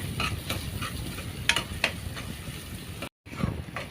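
Ginger-garlic paste being stirred in a frying pan for a Natu Kodi country chicken curry, with a steady sizzle under repeated spoon scrapes and clinks against the pan, close and moderately loud, broken by a brief silent gap near the end.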